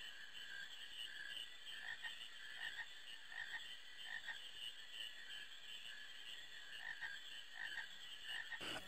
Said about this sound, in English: Alright, capture a frog.